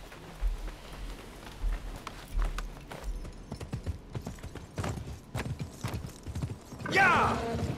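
A horse's hooves thud in a steady, rhythmic gallop in the video game Assassin's Creed Mirage, fairly close and mid-loud over a soft, rain-like hiss, with a brighter rushing burst near the end.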